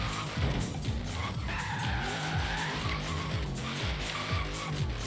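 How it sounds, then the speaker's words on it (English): Liberty Walk Hellcat drift build sliding in Forza Horizon 3, its engine droning steadily while tires skid and squeal continuously through the drift, loud and close with no talking. "drift build for the HELLCAT. I mean, it slides perfectly"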